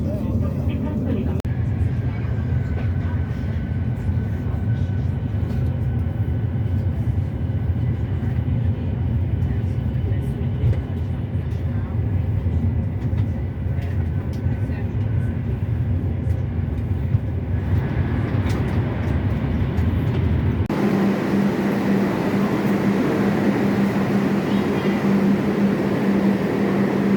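Trenitalia train running from Venice to Napoli, heard from inside as a steady low rumble and rolling drone that shifts in tone partway through, with voices talking over it.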